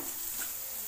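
Solapuri black masala roasting in a pan for dry mutton masala, a steady soft sizzle with light scraping from stirring, close and continuous with no talking.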